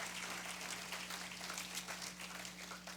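Church congregation applauding during a Spanish-language sermon, a steady wash of clapping from many hands lasting throughout, with a low hum underneath.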